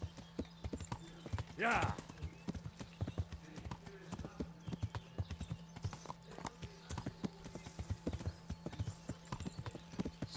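Steady clip-clop of horse hooves in an even walking rhythm in Kingdom Come: Deliverance, with a brief whinny early on and a person speaking briefly over it.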